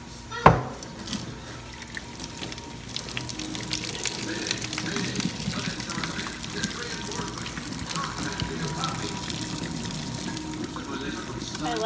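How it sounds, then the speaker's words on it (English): Cooked macaroni water pouring out through the built-in straining lid of a Teflon pot, a steady broad rush of liquid with a sharp clank at the start, close and continuous throughout. "I'm going to drain my macaroni that's finished cooking"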